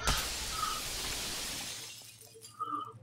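Glass shattering in the video game Payday 2, a loud crash with a long bright spray of falling shards, then a few small tinkling pieces settling near the end.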